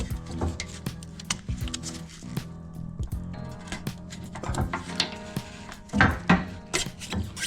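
A blade sawing through an old rubber sway bar bushing on a Volvo XC90, a steady close rasping and squishing scrape with rhythmic strokes that grows rougher and louder toward the end.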